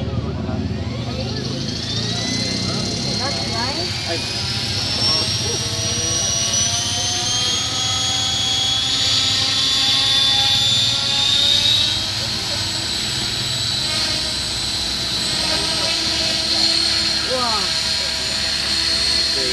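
An electric radio-controlled helicopter spins up with a rising turbine-like whine that climbs steadily in pitch and holds, loud and close, with people talking over it.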